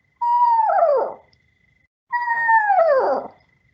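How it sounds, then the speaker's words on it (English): A screech owl calls twice, each a clear descending whinny that slides down in pitch and ends in a quavering trill, fairly close against a silent background. "So we did have like a little screech owl going"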